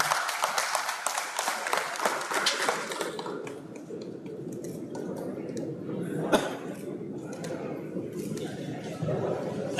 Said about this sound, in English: Guys, can we please clap?